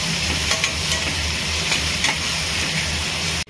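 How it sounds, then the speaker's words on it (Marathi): Fried onion with crushed green chilli and garlic is stirred in a pan, giving a loud, dense, continuous sizzle with faint spoon scrapes, close up and without speech, cutting off abruptly at the end. "चांगल्या प्रकारे हलवून घ्यायचं"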